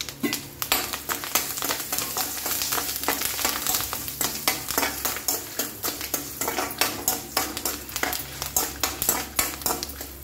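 Dry red chillies and curry leaves, with a pinch of asafoetida, fry in oil for a ridge gourd chutney, giving a steady close sizzle broken by quick rhythmic stirring scrapes and clinks throughout, with no talking.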